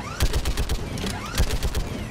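A mounted gun fires in Mass Effect 3, pounding out a fast, loud burst of repeated heavy shots with metallic echoes, heard alone with no talk.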